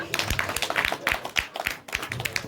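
An audience at a village Ramleela performance in Nainidanda claps in a brisk, fairly rhythmic burst of applause, close and moderately loud, lasting a couple of seconds.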